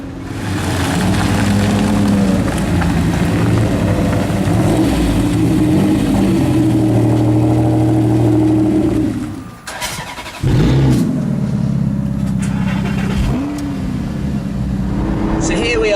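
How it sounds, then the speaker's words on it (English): Lamborghini Gallardo LP560 with a 560-horsepower V10 and all-wheel drive, heard from inside the cabin in normal driving mode as a steady low engine drone under talk, dipping briefly near the middle before resuming. "In the Lamborghini LP560 running completely normal mode"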